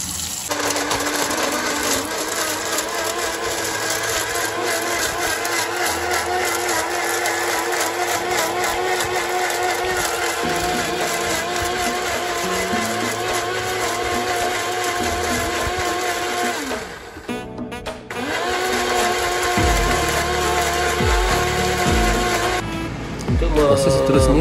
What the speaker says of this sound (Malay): lada kering yang akan kita blender